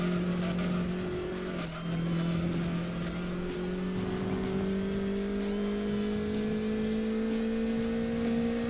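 A Citroen Saxo racing in Gran Turismo 2, a front-wheel-drive car challenge, its engine droning steadily with a rising pitch, a brief dip like a gear change near the start, and faint tyre noise.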